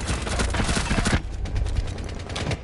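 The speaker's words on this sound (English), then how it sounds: "Dude, I emptied the full fucking clip after the round's done." Automatic gunfire from Rainbow Six Siege, a full magazine emptied in one loud, rapid burst of closely spaced shots. The firing stops partway through and dense, quieter rattling and room noise follow.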